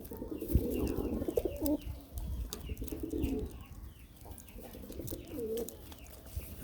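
Pigeons coo in soft, throaty bursts close by, some calls overlapping, against a faint background of scratching and shuffling as the birds feed; no one speaks.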